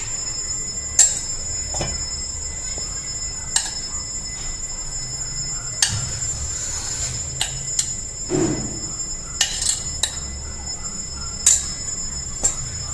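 A spoon mixes sajje (pearl millet) dosa batter in a bowl, giving sparse, sharp clinks and taps against the bowl over a steady low background hum.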